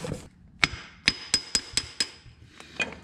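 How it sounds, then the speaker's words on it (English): Sharp metallic smacks from the end of a pry bar knock a part back into place on a Kubota BX tractor, one strike followed by a quick run of five ringing hits, then a softer pair. "I'm gonna use the end of my pry bar here to give it a smack."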